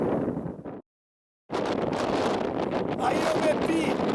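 Strong headwind buffets the microphone of a cyclist in a loud, steady roar, broken by a short silent gap near the start.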